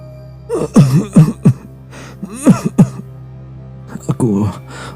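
Several harsh, raspy coughs in short bursts, close by, with a pause between clusters and a low hum in the background.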